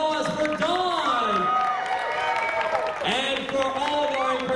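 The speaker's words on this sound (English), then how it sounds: "All right, everyone, a big round of applause for Dawn!" Applause and cheering swell from the crowd at a Star Wars Rogue One cosplay contest at the TCL Chinese Theatre, steady and fairly loud, mixed with excited voices and shouts over the clapping.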